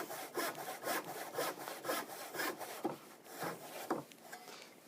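A hand saw cuts wood clamped in a vise, with steady back-and-forth rasping strokes repeating close and fairly loud, then a few slower, heavier strokes near the end.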